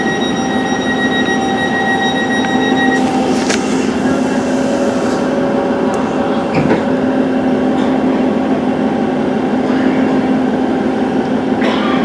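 A passenger train runs on the parliamentary service to Goole, heard from inside with a steady loud rumble, a humming electric whine and a few knocks and clanks along the way.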